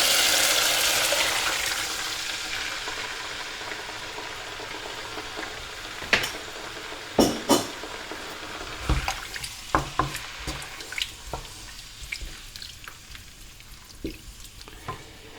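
Sauce for bo bun simmers in a pan, opening as a loud, steady hiss that settles down, then gives way to a scattered run of close utensil clinks and light knocks.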